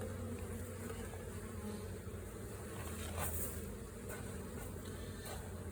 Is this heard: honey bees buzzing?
yes